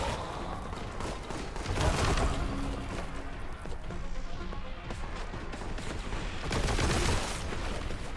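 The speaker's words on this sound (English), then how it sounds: "we both start shooting" Gunfire exchange in a video game, dense bursts of rapid shots crackling in overlapping volleys, loud and close, with a brief lull partway through before the firing swells again.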